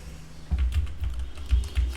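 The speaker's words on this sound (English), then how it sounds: "Now I'm using the keyboard." Fingers tapping on a computer keyboard placed right beside a HyperX SoloCast microphone, a quick irregular run of close, muffled keystroke clicks with no talking.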